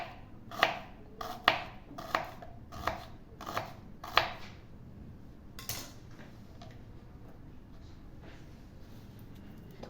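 Knife chopping garlic and ginger on a board for paste, a run of sharp close taps in quick irregular bursts during the first half, then quieter scattered cuts.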